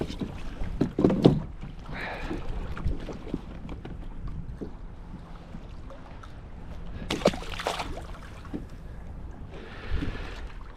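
Gusty wind rushes across the microphone of an offshore kayak on the ocean off South Carolina, rising in rough bursts over a low rumble, with faint water sloshing near the hull.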